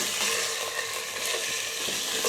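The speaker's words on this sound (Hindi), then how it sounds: "फ्राई करेंगे ताकि जो चिकन का कलर है वो वाइट कलर हो जाए इसका।" Chicken, about 350 grams, frying lightly in a little oil as the base for a chicken vegetable soup, giving a steady, close, even sizzle with a soft crackle throughout and no talking.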